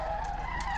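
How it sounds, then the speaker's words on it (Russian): Car braking into a skid in the racing game Street Legal Racing: Redline, a loud, steady tire squeal holding throughout with engine hum underneath and no talk. "Тормозим."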